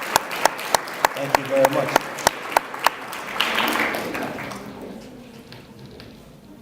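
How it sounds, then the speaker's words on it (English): An awards-ceremony audience claps: a run of sharp, evenly spaced claps swells into a broad wash of applause that gradually fades, with a voice speaking briefly over it. "Let's recognize these with a round of applause."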